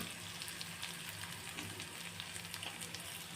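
Chopped onion with turmeric and salt fries in oil alongside browned garlic, a soft, even sizzle that crackles steadily throughout with no one speaking.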